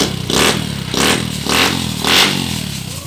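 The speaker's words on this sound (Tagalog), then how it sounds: "Nanggigising nang natutulog yan. Yung tambutso mo." A loud motorcycle exhaust on an engine converted from 155cc to 175cc revs hard in four repeated bursts, each rising and falling, with a rough clattering roar close by.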